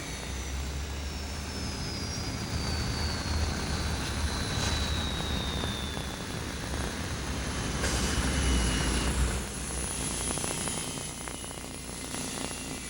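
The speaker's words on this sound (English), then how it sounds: "Due to the C-5's huge size, it seems to take off in slow motion." A huge C-5 military cargo jet takes off with a loud, sustained engine roar and deep rumble, a high whine sliding down across the sound as the aircraft powers along.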